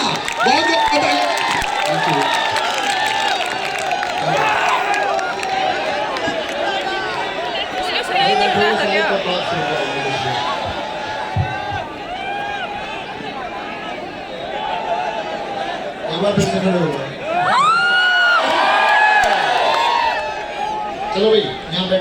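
A lively crowd cheers, claps and chatters at a motivational gathering honouring Naveen sir. The noise holds steady for the whole stretch and swells near the end, with voices shouting throughout.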